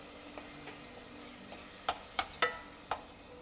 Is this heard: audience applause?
no